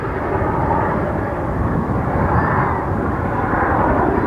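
A British Army helicopter lifting off close by, a loud, steady broadband roar of engine and rotors that holds at full strength throughout with no pauses.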